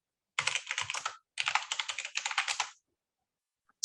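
Rapid bursts of typing on a computer keyboard, two quick runs of clicking keys close up, then a pause and one last tap.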